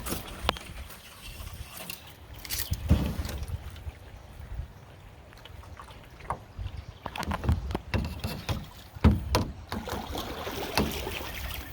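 A canoe drifting without a motor on Lake Taneycomo, with soft paddle strokes, water lapping and gurgling against the hull, and occasional knocks, fairly close against a light outdoor background.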